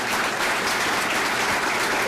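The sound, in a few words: audience applause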